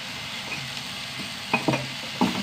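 Onions or paste being sautéed and stirred in a pan for a Kerala chammanthi, a soft steady sizzle with a few sharper spoon scrapes and clinks near the end, close and moderately quiet, no voices.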